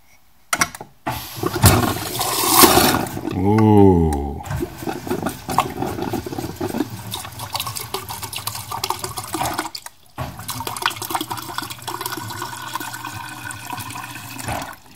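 A refrigerator's water dispenser pours water into a cup in a steady, continuous stream lasting about ten seconds, preceded by a few clunks and handling noises, with no one talking.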